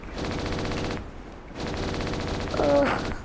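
Two long bursts of rapid automatic gunfire in a video game rattle out, separated by a brief pause, ending with a short ringing tone.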